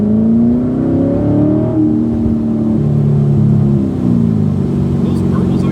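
A Chevrolet Corvette C7 Grand Sport engine roars loud and close, rising and falling in pitch as it revs, steady and dense for several seconds.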